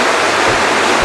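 Underground river rushing through a very large cave chamber in the Sumban Putri cave, a steady, loud, broadband roar of flowing water that fills the space without pause.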